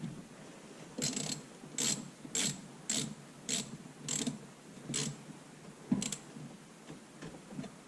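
Ratchet wrench tightening a spark plug on a 2006 Subaru Forester 2.5X engine, about nine crisp clicking bursts in a steady rhythm, close by and fairly quiet, with no talking.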